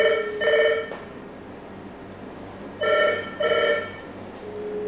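A telephone rings in a telephone exchange demonstration, two bursts of electronic double ringing a couple of seconds apart, clear and close over a steady background hum.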